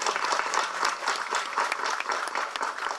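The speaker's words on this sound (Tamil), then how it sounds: "அவருக்கு ஒரு மிக பெரிய கைத்தட்டலில் கொடுக்கணும்" An audience at an audio and trailer launch event applauds the actor and director, giving a dense, lively round of clapping that holds steady with faint crowd noise mixed in.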